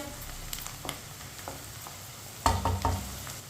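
Onions fry lightly browning in a pan over a medium flame, a soft continuous sizzle with a few louder stirring scrapes near the end.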